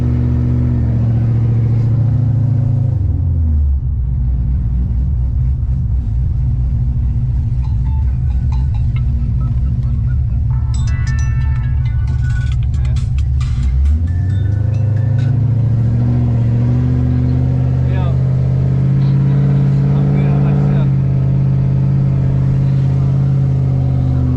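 A tuned car sits stationary while its engine idles, then revs up under throttle into a loud sustained roar with rattling, before dropping back to a deep, rumbling idle.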